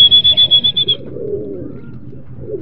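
A racing pigeon arrives and enters its loft: a quick run of bright chirping calls at the start, then muffled fluttering and rustling close by.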